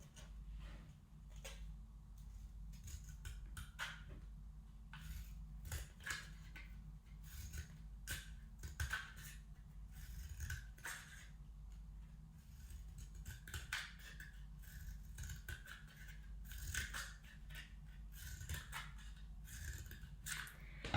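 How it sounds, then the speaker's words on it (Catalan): Scissors cut painted paper into strips for a children's craft, with soft, faint, repeated snips and rustles steadily throughout. "ara retallarem això en tires"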